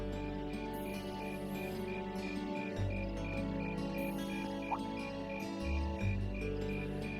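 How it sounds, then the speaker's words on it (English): Insects chirp at night in an autumn scene of the video game Trails of Cold Steel, a steady layered cricket trill with regular pulsing calls over soft ambient game music and low tones. "Insects, huh? Well, it is fall, I guess."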